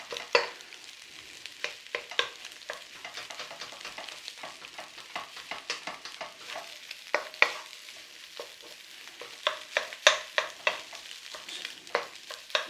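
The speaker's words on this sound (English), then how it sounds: "Give it a little mashing up in your pan." Dry, day-old rice being mashed and turned in a frying pan, with a steady run of scraping, tapping stirs over a light sizzle and no talking.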